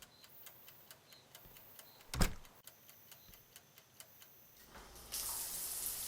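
In a quiet indie horror game apartment, a clock ticks steadily with a single thud before a shower suddenly starts running, its hiss of spraying water rising at the end.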